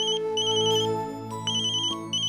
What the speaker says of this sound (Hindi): नेहा का ही फोन है,